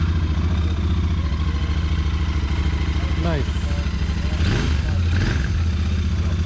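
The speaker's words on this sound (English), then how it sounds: "To start the bike, we're going to flip it the ignition on, our run switch." A Royal Enfield Interceptor 650 BS6 twin, fuel-injected and rather quiet, is started and settles into a steady low idle, with people talking nearby and a brief remark partway through.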